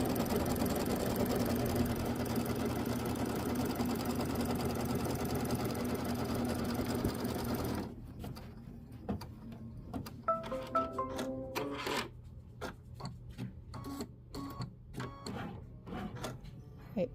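An embroidery sewing machine stitches a placement line for the batting on a Kimberbell mini quilt, first a steady whirring hum, then a rapid run of close, rhythmic needle taps and mechanical clicks.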